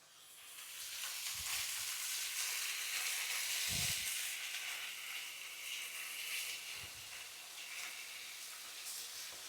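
Chicken pieces frying in a pan until golden, giving a steady, fairly close sizzle and hiss throughout, with a few soft low knocks from the pan.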